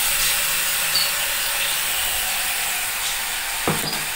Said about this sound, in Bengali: তো দেখো আমি কিন্তু ভেজে নিলাম এটা, আর এবার আমি দিয়ে দিচ্ছি মশলাটা।